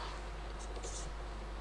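Quick scratchy strokes of writing on a board during a chemistry lesson on solid state, short and faint over a constant low hum.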